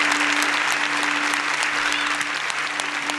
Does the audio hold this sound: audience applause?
yes